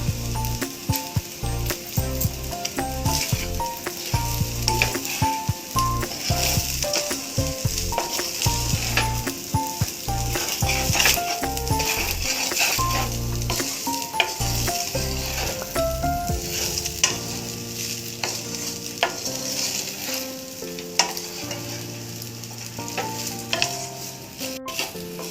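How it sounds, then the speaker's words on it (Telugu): Jeera rice with cumin masala and coriander frying in a pan, with continuous sizzling under rapid, rhythmic clatter and scraping of a utensil against the pan; the stirring thins out toward the end. "ఒక 2 నిమిషాలు ఇలా అన్నం ఫ్రై చేసేద్దాం"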